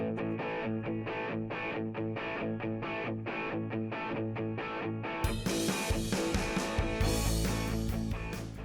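An electric guitar through an amp plucks the same notes again and again, then breaks into a loud, distorted strum.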